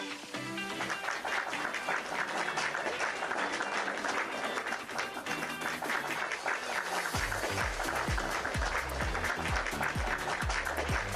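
Audience applause fills a conference hall after a session, steady and dense throughout. Low musical tones join under the clapping partway through.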